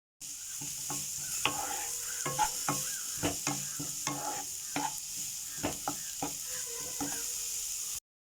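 Shredded cabbage stir-fries in a hot pan, giving a steady sizzle with a quick run of close, rhythmic stirring and scraping strokes throughout.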